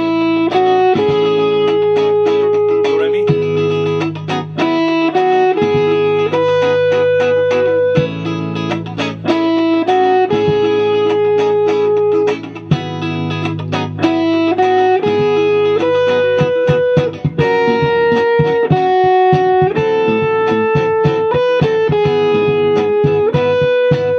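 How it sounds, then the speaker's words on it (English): Distorted electric guitar with effects plays a continuous melodic line with sustained notes and chordal stabs, loud and close, no talking. "So distortion's on."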